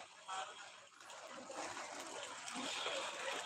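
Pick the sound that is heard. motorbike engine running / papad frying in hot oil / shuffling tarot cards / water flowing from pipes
water flowing from pipes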